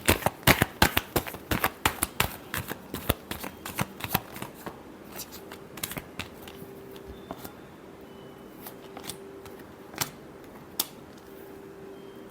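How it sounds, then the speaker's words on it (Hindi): Tarot cards are shuffled by hand in a rapid burst of crisp riffling snaps, then scattered slower flicks and taps trail off, close and fairly quiet. "Last shuffle."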